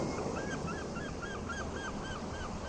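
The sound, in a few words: birds in a video game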